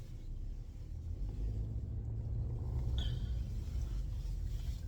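A car idles and rolls forward as it pulls out onto a road, a low steady engine rumble close by with a brief faint squeak partway through.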